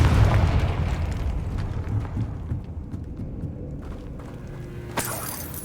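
The Confringo spell in Hogwarts Legacy goes off as a heavy rumbling explosion that decays slowly, followed by a sharp burst near the end.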